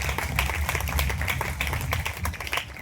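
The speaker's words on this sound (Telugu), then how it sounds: "బిగ్గరగా చప్పట్లు కొట్టాలి." An audience at a gospel meeting claps loudly and continuously, many hands producing dense, slightly uneven bursts of slaps that hold steady throughout, with no voices.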